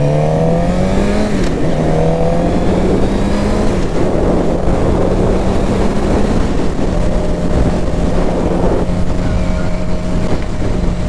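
A Suzuki GSX-R600 motorcycle rides through thick weekday afternoon traffic, its engine note rising and shifting steadily under constant loud wind rush, with no talking.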